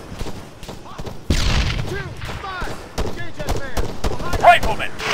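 Combat in the military shooter ArmA 3, with sharp gunshots cracking at irregular intervals and a heavy booming grenade blast, while voices call out over the firing.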